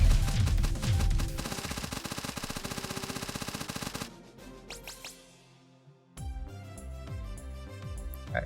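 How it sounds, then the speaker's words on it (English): Rapid, dense automatic fire from the Super Minigun in One Step From Eden, a loud continuous stream of shots for about four seconds, then a brief lull before game music and more rhythmic hits return. "you can also use Super Minigun, use those 100 shots to finish these guys off"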